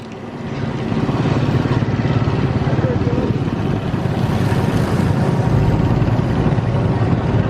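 A motorcycle engine rumbles loud and steady while riding near the port of Estancia, Iloilo, Philippines, with rushing wind noise over it.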